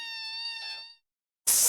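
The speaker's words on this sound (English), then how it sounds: "It's a basic meow sound." A synthesized cat meow sample plays in music software as a steady, tonal, harmonic cry lasting under a second. A pause follows, then a sudden loud burst of bright noise.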